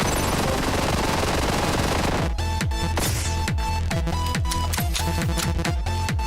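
Rapid, steady gunfire in the video game One Step From Eden, a loud stream of evenly spaced shots over continuous game music and noise.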